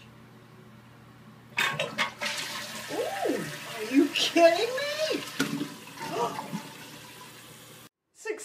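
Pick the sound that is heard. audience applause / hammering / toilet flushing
toilet flushing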